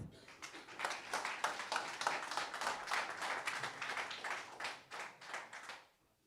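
A crowd applauds a fighter at an amateur MMA weigh-in event, steady dense clapping lasting several seconds before fading out, fairly close and loud.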